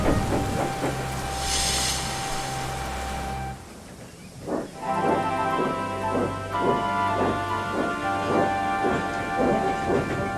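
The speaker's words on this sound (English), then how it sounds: "Then they waited till the storm passed." A thunderstorm with rain: a low thunder rumble rolls in partway through, with a steady rain wash and a musical score playing over it, and no talking.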